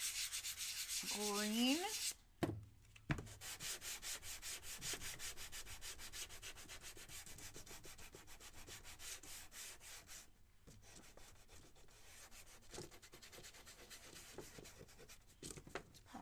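A sanding sponge rubs back and forth on a wooden craft piece in quick, rasping strokes that continue steadily, with a brief word spoken early on.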